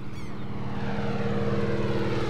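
A small seaplane's propeller engine drones steadily and loudly at close range, a continuous buzzing hum with no talking.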